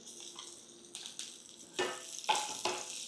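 Chopped green chilies hit cumin frying in a pan for vegetable patties, giving a few quiet bursts of sizzle and stirring, with no one speaking.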